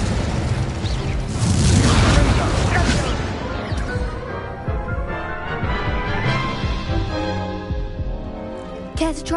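Spells from the Hogwarts Legacy game, including the Incendio fire spell, fire off as thumping bursts and rumbling impacts with crackling debris, loud and close, with game voices calling out over the effects.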